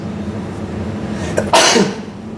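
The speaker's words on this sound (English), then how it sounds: "I have to sneeze" A single sharp sneeze bursts out in a gym over a steady low background hum, loud and close, with a brief intake just before it.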